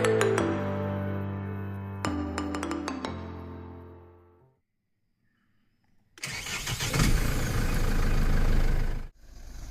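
After some ringing tonal chimes and a silent pause, a truck engine on a Munnar morning cranks and bursts loudly into life. It runs strongly for a few seconds, then cuts off abruptly.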